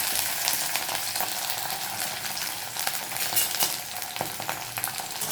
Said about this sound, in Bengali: ফোড়নে আমি শুকনো লঙ্কা আর একটু কালো জিরে দিয়ে দিলাম।